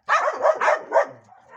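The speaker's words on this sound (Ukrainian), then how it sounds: "Чого таке і хвостом махає, і гавкає, не знаєш, що таке." A dog barks and yips in a quick run of about four close, loud barks, ending in a softer whine.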